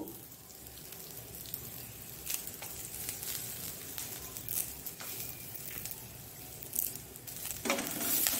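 Curry leaves and chilies fry in hot oil for a Mangalore-style carrot chutney, giving a close, continuous sizzle and crackle with scattered sharper pops.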